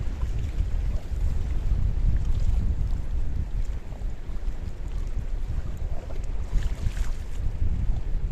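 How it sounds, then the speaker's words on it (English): Strong wind buffets the microphone on a beach at Paphos, Cyprus, a steady low roar with gusts that rises and falls across the whole stretch, with no voices. "the wind is so strong"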